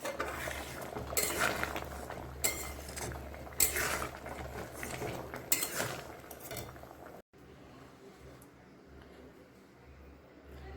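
Pot of egg curry handled on the stove before being lifted off, with scattered metallic clanks, scrapes and utensil knocks up close, then a quieter stretch of low background hum.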